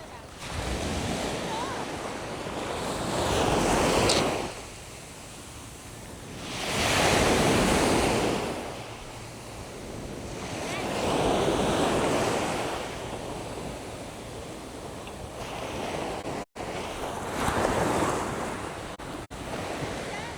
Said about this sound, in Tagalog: Sarap pakinggan ng dagat